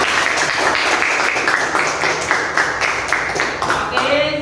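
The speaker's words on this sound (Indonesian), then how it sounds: "Beri aplaus untuk kita semua." A small counselling group breaks into steady, continuous clapping that fills the whole moment at close range.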